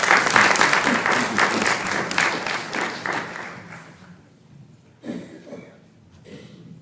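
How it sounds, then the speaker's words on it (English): An audience at an elder abuse awareness presentation breaks into dense applause that fades over about four seconds, followed by a short second burst of clapping that quickly trails off. "A round of applause for Inspector Jose Davila."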